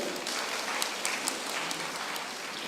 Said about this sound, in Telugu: క్లాప్స్ కొనండి ఒకసారి